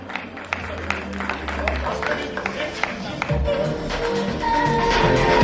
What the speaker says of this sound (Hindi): A big round of applause, my dear friends